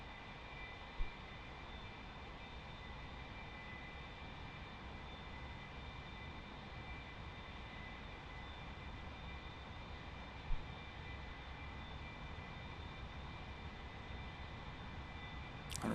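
Cruising A-4 Skyhawk jet engine in the DCS flight simulator, a steady, unchanging drone with a faint high whine running through the whole stretch and only a couple of tiny clicks, with no talking.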